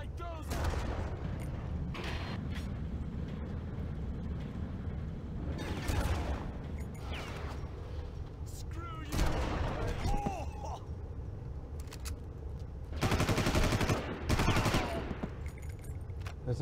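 Gunfire in the video game Far Cry, with bursts of automatic shots and heavy volleys mixed with game noise, while a player talks over it.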